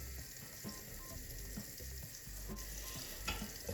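Butter heats in a frying pan with a soft, steady sizzle and light crackle, fairly faint and close, with a few small knocks from the pan and no voices.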